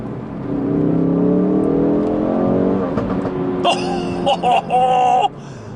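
A 2017 Ford Focus RS engine revs and drones after a downshift, then sharp crackling exhaust pops burst out in quick irregular clusters near the end.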